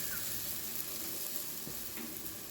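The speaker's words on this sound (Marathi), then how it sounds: "तर तव्याला थोडंसं तूप लावलं आहे आणि हा जो पराठा आपण लाटला होता तो टाकणार आहे" A paratha sizzles in ghee on a hot tawa, with a steady, even frying hiss and faint crackle that stays close and continuous throughout, no voices.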